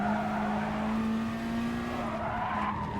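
A race car in the GT Sport racing game brakes hard, tires skidding and squealing in a sustained, loud screech over the engine's steady tone, lasting a few seconds without talking.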